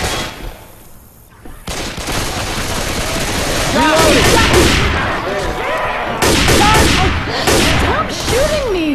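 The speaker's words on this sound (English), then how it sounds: "Stop shooting me!" Rapid gunfire in Left 4 Dead 2 on the Dark Carnival map, dense bursts of shots and crashes layered over one another, with players talking over the shooting.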